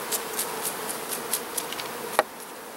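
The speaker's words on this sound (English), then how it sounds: "there's going to be a lot of bees in the air with this hive" Honey bees buzz around an open hive in faint, brief passes close to the listener, with a low airy background and a sharp tap near the end.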